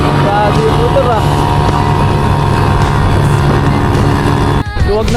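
Motorcycle riding along the Marilaque Highway, its engine droning steadily with a sustained tone and wind rush, loud and close, cut by a brief drop near the end.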